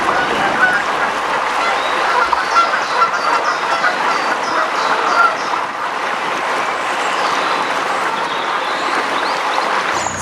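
Ducks and ducklings on a canal beside a slow-moving narrowboat, with soft quacks and peeping calls scattered over a steady, moderately loud outdoor ambience of water and motion.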